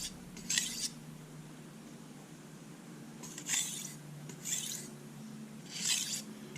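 A soft Chicago Cutlery stainless steel kitchen knife is drawn across a sharpener in four separate scraping strokes with quiet pauses between them, heard close and alone.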